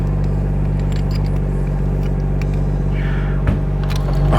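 A BMW car engine rumbles loudly and steadily nearby as it is moved off a driveway, a low continuous drone with faint shifting tones as the vehicle moves.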